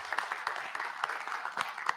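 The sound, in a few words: round of applause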